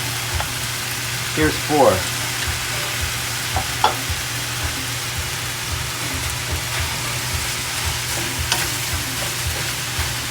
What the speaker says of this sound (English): Now, I'm going to throw in my white rice.